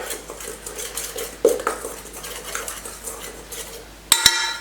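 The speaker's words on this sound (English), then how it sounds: "Then we're going to mix them into our wet ingredients. We're going to mix this together." Dry ingredients being mixed into wet ingredients in a bowl for holiday treats: soft scraping and stirring of a utensil against the bowl, with a couple of sharper clinks, one near the end, close and moderately quiet.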